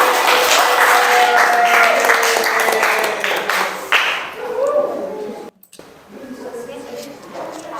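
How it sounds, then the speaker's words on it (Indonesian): A classroom breaks into a burst of clapping for the third student, lasting a few seconds and then fading, with voices talking over and after it. "Beri aplaus untuk nomor 3."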